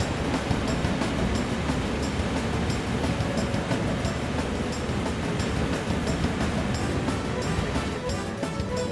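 A video-game train rumbles past continuously at close range, a loud, dense roar with faint rhythmic clatter and no voices.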